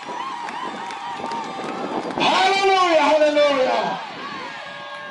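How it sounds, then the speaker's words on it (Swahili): A church congregation at a Bible teaching seminar in Matui, Kiteto breaks into loud clapping and high, wavering ululation after a preacher's voice, swelling for a couple of seconds before fading back under speech. "Mpe Yesu makofi na vigelegele"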